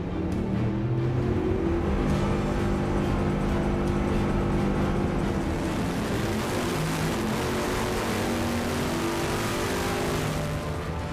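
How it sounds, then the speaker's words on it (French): A Bugatti Veyron engine is pushed to full throttle on a test bench for the first time, giving a loud, dense, continuous roar that holds steady for the whole stretch with no break. "les ouvriers poussent le moteur à plein régime pour la toute première fois"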